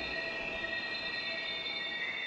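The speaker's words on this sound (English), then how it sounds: "Sparks fly as the train slams on its brakes." Train brakes screeching in the Steins;Gate visual novel as a train halts at a station platform, a steady high metallic squeal with a rumbling undertone held throughout.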